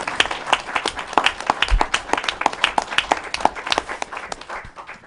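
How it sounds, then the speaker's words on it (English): An audience at a New York state government event claps in a steady patter of many hands, moderately close, with no talking over it. "Let's give them a round of applause"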